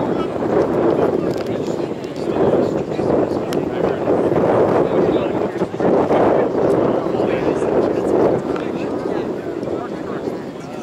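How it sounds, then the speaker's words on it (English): Wind roars steadily across an outdoor soccer field during a high school match, a loud continuous gusting rush buffeting the microphone with slight swells throughout. "Wind is blowing from our right to left."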